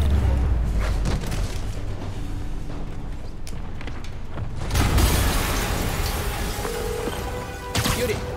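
Explosions rumble through a battle in the Spider-Man PS4 video game: a deep, noisy blast swells midway and another sharp burst hits near the end, over a continuous bed of game noise and rumble.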